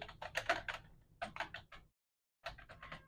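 Quick bursts of computer keyboard keystrokes while entering text in an Excel spreadsheet, close and soft, broken by a brief silent pause before the typing resumes.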